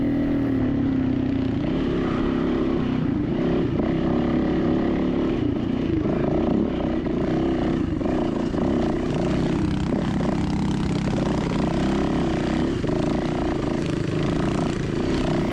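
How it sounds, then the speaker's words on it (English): A dirt bike engine loping along at low RPM on a hill climb during a Virginia City GP race, a loud, continuous, close-up drone that holds steady throughout without any speech. "You hear how low my RPMs are, just kind of putting along, not trying to keep out any wheel spin."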